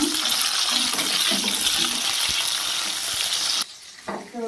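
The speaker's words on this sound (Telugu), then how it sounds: "వంకాయ ముక్కలు కూడా అయితే యాడ్ చేస్తున్నాను చక్కగా వేడిపోతాయి" Eggplant pieces frying in a pan for a green chilli and tomato chutney make a dense close sizzle with stirring, then drop off abruptly near the end before a short quieter crackle.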